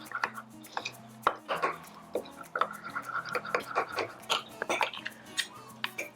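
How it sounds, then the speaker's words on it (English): A spoon mixes cinnamon roll batter in a mug, giving quick repeated clinks and scrapes against the ceramic in an irregular rhythm, close and fairly loud. "Okay, so I'm mixing it in the mug"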